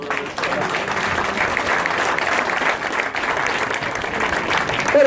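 Outdoor crowd applause at a cycling race podium ceremony for a stage winner receiving his jersey, steady dense clapping at moderate distance with a faint murmur of voices underneath.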